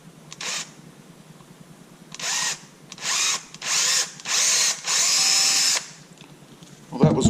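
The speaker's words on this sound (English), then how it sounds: "we're gonna drill the hole" Power drill boring a hole into a Toyota Tacoma truck, running in one short burst and then four longer whining bursts separated by pauses, loud and close, with a small clunk at the end.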